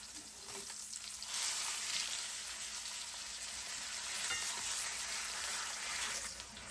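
Leftover potatoes warming in a hot pan make a steady, dense sizzle and crackle that runs without a break, close and fairly loud, with small bursts of popping and no voices.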